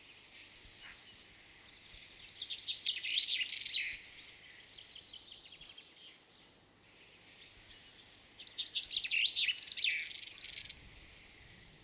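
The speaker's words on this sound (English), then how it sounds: "Amongst the more common chaffinches are the occasional bramlings, migrants probably from Scandinavia." Chaffinches and bramblings at a winter feeder near a visitor centre, with bursts of bright chirping calls in short clusters separated by a quiet gap in the middle.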